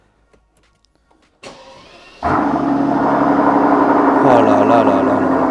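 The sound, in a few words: V12 biturbo car engine starting and revving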